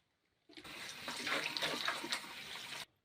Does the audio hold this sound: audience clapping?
no